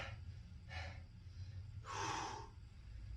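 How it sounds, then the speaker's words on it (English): Two short breaths and one longer, stronger breath during an exercise workout, close and fairly soft over a low background hum. "Breathe in, breathe out."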